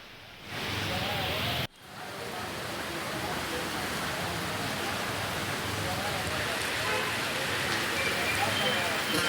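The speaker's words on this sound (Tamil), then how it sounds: "திடீரென மாலை நேரத்தில் கனமழை பெய்தது" Heavy evening rain pours down in a dense, steady hiss that holds level throughout, broken only by a sharp cut near the start, with no voices.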